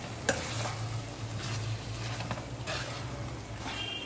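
Prawn gravy stirred in a pan with a faint, steady sizzle and soft scraping strokes, heard close at a low level with no voices.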